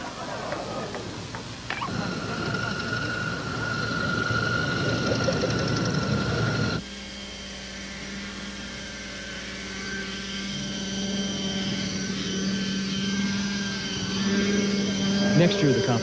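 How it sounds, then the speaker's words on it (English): Engines of 1991–1992 aerial robot competition vehicles start and run, giving a buzzing, whining drone that shifts abruptly to a lower, steadier hum partway through, with several overlapping tones. "Start your engines."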